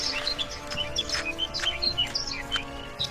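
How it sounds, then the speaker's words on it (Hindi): Small birds chirp and tweet in short, high, repeated calls, fairly close, scattered over a steady background hum. "चिड़िया के चहकने की आवाज सुनाई देती है"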